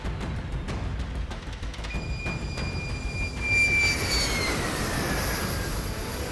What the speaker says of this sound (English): hundreds of fighter jets and support aircraft have been flying in and out over the past 2 weeks